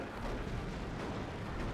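A Baneblade super-heavy tank's cannon volley in Dawn of War 2: Retribution, a dense, continuous rumbling roar of overlapping blasts that fills the whole moment loudly and without a break.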